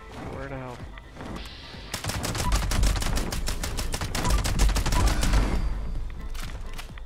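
Rapid gunfire rings out in the video game Fallout 76 as a weapon is used on ghouls in White Springs, delivering long strings of sharp, evenly spaced shots that start after a brief quieter moment and keep up a loud, steady rhythm.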